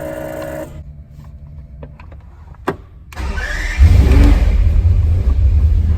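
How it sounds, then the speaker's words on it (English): A McLaren F1 is started by push button: after a few clicks and a sharp crank, its engine catches with a loud, close bark and settles into a deep, rough idle with some revving. "You press that button, and that fires up the engine"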